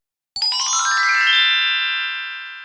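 A phone rings with a single bright chiming ringtone tone that strikes suddenly and then sustains, slowly fading, clear and alone with no voices.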